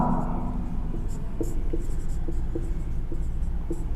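Pen writing notes by hand on paper, a run of short scratchy strokes close up over a low room hum, with a voice speaking faintly at times.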